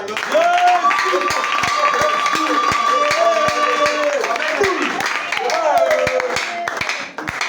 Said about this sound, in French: Pour tout cela, acclamons encore.